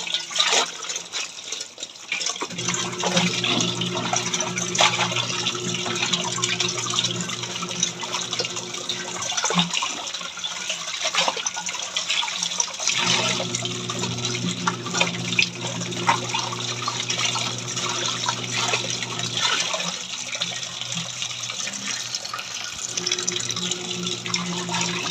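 Water runs continuously from a tap during hand-washing of laundry, a steady splashing flow over a low humming drone, with brief pauses and small clatters in between.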